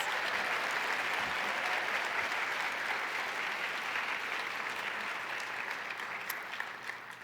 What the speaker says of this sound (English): Another round of applause for those degree recipients.